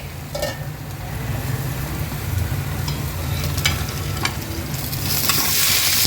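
Stuffed pomfret wrapped in banana leaf fries in a pan on medium flame, giving a steady close sizzle and crackle throughout, with a few sharper spits and the frying growing slightly louder toward the end.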